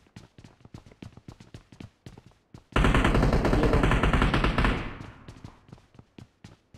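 A Groza rifle in a battle royale game fires a long, sustained burst of about two seconds, loud and close, set between light rhythmic footsteps before and after.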